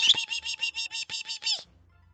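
A pet bird chirps loudly, giving a rapid run of about ten bright, close chirps over roughly a second and a half before falling silent.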